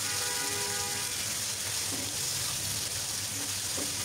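Chicken fries with onions and salt in a pan for a homemade deshi chicken bhuna, giving a steady, even sizzle that runs throughout with no talk.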